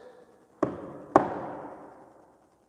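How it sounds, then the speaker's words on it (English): Two sharp knocks on a hard surface inside a town hall, about half a second apart, the second louder, each leaving a short ringing decay in a quiet room. "Can you make a noise, a knocking sound like this?"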